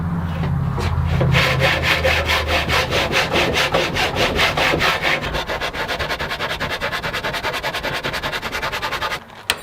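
Handsaw cuts through a solid piece of wood with fast, rhythmic back-and-forth rasping strokes, close and loud, carrying on steadily until the piece drops off with a final knock.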